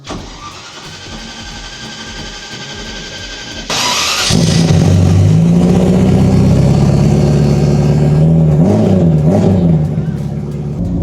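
A Ferrari F40 engine cranks briefly and then bursts into life at about four seconds, settling into a loud, close idle punctuated by sharp revving blips, with a voice faintly under it.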